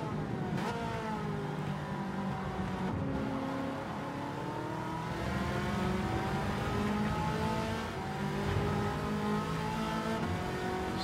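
Gran Turismo 7 race cars on the Deep Forest track, engines droning and revving steadily with rising and falling pitch as several cars run close together, a continuous loud whine with brief tire noise and no talking.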